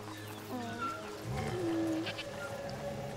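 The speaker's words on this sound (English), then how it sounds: "Goats!" Goats bleating in the video game A Plague Tale: Requiem, several wavering calls close by over a low farm ambience.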